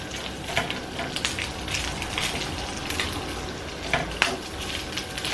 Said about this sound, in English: The flour in, give it a good mix